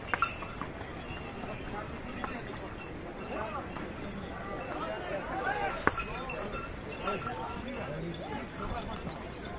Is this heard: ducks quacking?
no